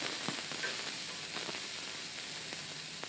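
Sliced eggplant and a pointed gourd sizzle steadily in hot oil with bay leaf in a pan, a continuous close frying hiss with a few faint utensil clicks.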